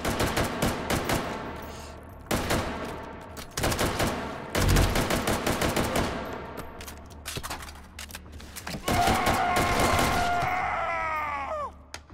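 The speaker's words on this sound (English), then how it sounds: "I think they're shooting at something else" Repeated bursts of gunfire in the VR shooter Hot Dogs, Horseshoes & Hand Grenades on the Wurst Manor custom map, rapid close cracks in clusters with short pauses, growing denser toward the end.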